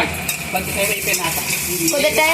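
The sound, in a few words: green chili and ginger paste frying in a pan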